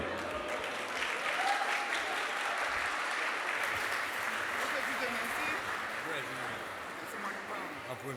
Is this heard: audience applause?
yes